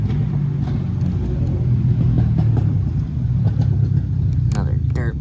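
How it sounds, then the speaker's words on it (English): A dirt bike rides past, a low engine rumble droning steadily in the background beneath someone talking. "another dirt bike driving by right now"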